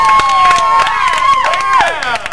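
A concert audience at an Epcot show cheers, whoops and yells in a loud, continuous burst, with rising and falling shouted voices layered over crowd babble.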